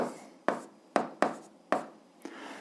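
Pen writing out an algebra fraction solution on paper, a series of about six close, crisp scratching strokes at irregular intervals, no talk.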